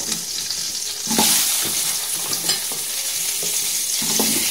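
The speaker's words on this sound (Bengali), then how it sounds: "এবার ওই তেলেই আমি আলু ভেজে নেব।" Potatoes fry in hot oil left over from frying prawns in a kadai, producing a loud, dense, steady sizzle with occasional spatula scrapes and stirs.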